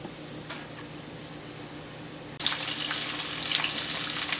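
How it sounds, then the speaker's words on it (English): Tuna pâté frying in oil until golden brown: a quiet hiss at first, then a sudden louder burst of crackling sizzle that continues steadily to the end. "And now let this fry until nice color"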